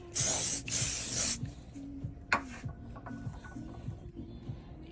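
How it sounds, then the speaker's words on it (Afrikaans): Spray hisses onto the sides of a pan during open-fire meat cooking: a loud sustained spray burst, then a shorter one, over quiet rhythmic background clatter. "Spuit dit na die kante."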